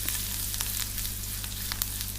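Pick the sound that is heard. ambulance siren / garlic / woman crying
garlic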